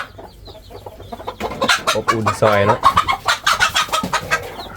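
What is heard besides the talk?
chickens clucking on a chicken farm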